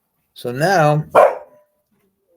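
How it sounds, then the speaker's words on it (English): A pet dog gives two close, loud barks, the first drawn out and the second short and sharp, with a brief spoken phrase close by. "that was my dog"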